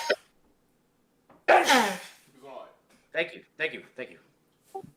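A single sharp, loud sneeze bursts out, followed by people talking nearby.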